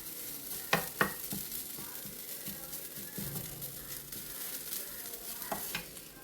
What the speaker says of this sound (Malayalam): തേങ്ങ നന്നായി വറവായി വരട്ടെ അതോടെ നമുക്കൊന്ന് ഇളക്കി കൊടുക്കണം